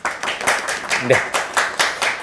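An audience at a book show claps in a brief round of rhythmic applause, with a short spoken word in the middle.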